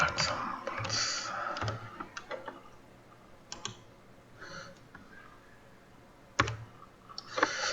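Computer keyboard keys and a mouse clicking on a computer used for Python programming, with scattered sharp clicks and short bursts of tapping between quiet gaps, close and fairly soft, with faint speech underneath.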